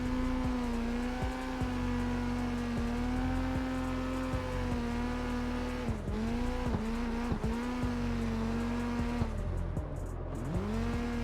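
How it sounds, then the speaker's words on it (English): A Nissan Silvia drift build in the video game CarX drones at a high, steady engine pitch with tire squeal, dipping and recovering through repeated shifts and slides as it weaves through traffic; no voices. "I love drifting it through the traffic though"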